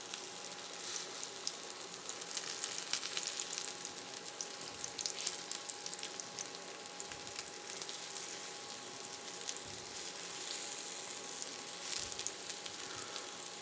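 Glamorgan sausages made of leek and cheese fry in a pan with a steady, close sizzle and fine crackling spatter throughout, with no voices over it.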